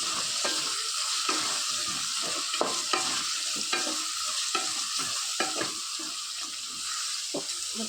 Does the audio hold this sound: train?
no